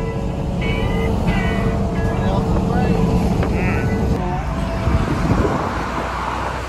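Traffic noise from inside an LBZ Duramax diesel pickup in the rain, a steady broadband road rumble and engine drone with brief tonal whines from passing vehicles, while people talk over it.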